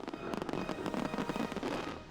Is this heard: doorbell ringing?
no